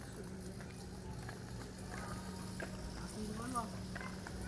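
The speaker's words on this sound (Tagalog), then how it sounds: "May kabayo siyang dala, at yung ibang mga guest dito ay sumasakay dyan sa kabayo na yan." Horse hooves clip-clop faintly at an eco farm where guests ride a horse in light drizzle, soft irregular steps under steady background noise.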